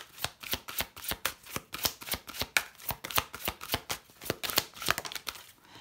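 Oracle cards are shuffled by hand in quick, crisp riffling bursts, a close, rhythmic flurry of sharp flicks and slaps repeating many times, with no one talking.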